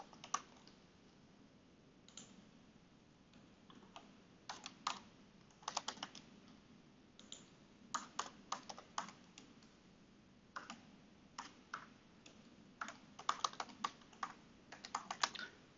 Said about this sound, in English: Now we type in some information.